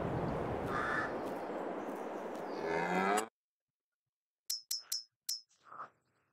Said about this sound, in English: So let's go ahead and buy a couple cows.